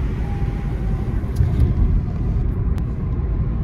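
Steady low road rumble inside a moving car, a continuous dense drone with no talk, heard during a drive to IKEA.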